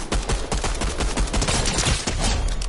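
Dense, continuous rapid gunfire in a shooting video game, a loud unbroken rattle of overlapping shots that fills the whole moment with no pause.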